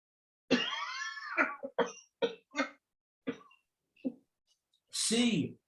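A person with a cough lasting over a month coughs in a series of harsh, close bursts, one long rasping hack followed by several short, sharp coughs and a final heavy cough.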